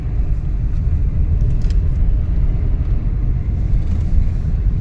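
A car drives along a mountain road near Kedarnath, its steady low engine and road rumble continuous and fairly loud throughout, with no voices.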